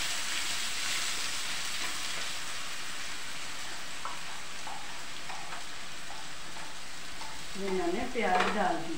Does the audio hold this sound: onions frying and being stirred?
yes